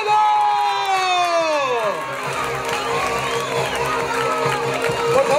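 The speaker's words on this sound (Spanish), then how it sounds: "El aplauso para Valentino Reboredo" A live comedy show audience cheers, whoops and applauds for a comedian being introduced on stage, a dense, steady roar of crowd noise that follows a fading tonal sound.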